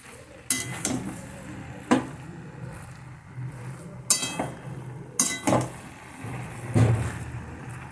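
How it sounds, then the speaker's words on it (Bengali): Metal utensil stirring vegetarian curry seasoned with chili powder in a pan, giving irregular scrapes and clinks against the pan over a low background hiss. "এবার নাড়ছি।"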